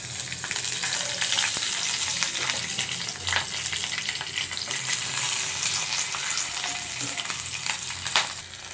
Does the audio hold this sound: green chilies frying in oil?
yes